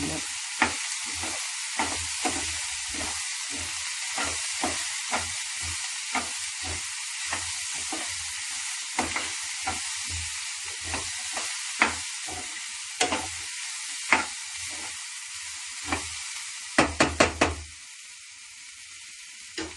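Spiced paneer bonda filling with turmeric and coriander powder sautés in a pan, a steady sizzle broken by repeated scraping stirs in a regular rhythm, close and clear, ending with a burst of quick strokes before quieting.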